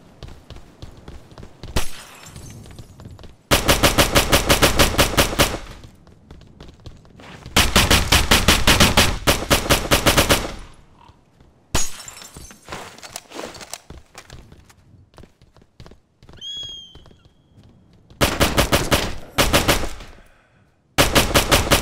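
A firefight in Operation Flashpoint: Dragon Rising, with repeated long bursts of rapid automatic fire between quieter stretches of single shots and footsteps, loud and close.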